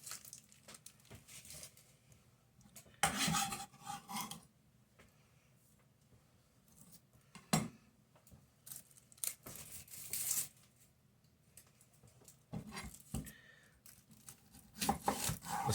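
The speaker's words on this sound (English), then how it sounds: "So I'm going to just clean up my onion and my garlic" Papery onion and garlic skins are peeled and torn off by hand, making scattered dry crackling and tearing bursts separated by quiet gaps, close and soft, with no talk.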